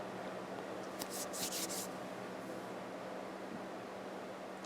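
Tarot cards are shuffled by hand in a quiet room, giving a few soft papery riffles and rubs clustered together, faint against a low background hiss.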